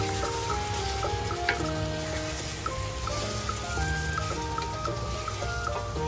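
A pot of laing, taro leaves cooking in coconut milk, bubbles and sizzles steadily as it simmers until the oil separates, a constant soft frying crackle under faint background music.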